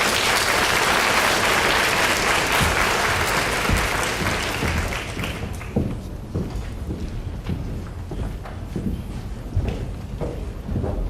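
A high school senior awards audience claps for students, a dense loud burst that thins after a few seconds into scattered, lighter individual claps.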